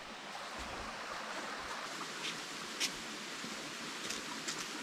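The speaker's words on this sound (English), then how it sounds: "we are here in the second waterfall" A waterfall in a quiet natural setting pours with a steady, even rush of falling water, continuous and moderately close, with faint brief ticks over it and no talking.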